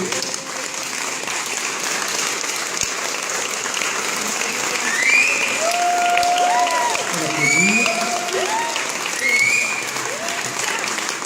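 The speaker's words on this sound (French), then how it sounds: "Merci d'applaudir Michaela Verdier" Steady audience applause fills a hall at a boxing award ceremony honouring a French vice-champion in educative boxing, a dense sustained clapping with whistles and cheers rising over it and voices mixed in.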